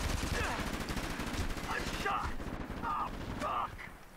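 A gun battle in SOCOM 4, with rapid bursts of automatic gunfire and scattered shots under steady background noise, close and fairly loud, and a voice talking part of the time.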